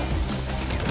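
Rapid magnum pistol gunfire in the video game Halo 5, a dense, loud burst of shots filling a brief moment with no talk.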